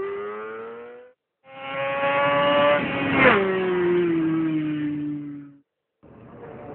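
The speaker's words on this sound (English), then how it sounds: "turn and keep the acceleration for the fast part of the track" A racing motorcycle accelerates hard out of a hairpin onto the fast part of a track. Its loud, close engine whine climbs steadily, drops sharply at a gear change, then holds, with brief silent gaps at the start and end.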